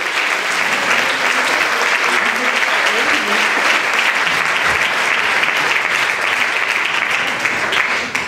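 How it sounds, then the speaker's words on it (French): Loud, dense applause from a live concert audience, continuous and full for several seconds, with crowd noise mixed in and tapering slightly at the end. "Sous vos applaudissements, le petit Paul."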